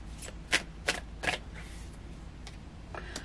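Tarot cards shuffled by hand in a quiet room, several crisp riffling bursts in quick succession followed by softer, fainter shuffles, close and alone without talk.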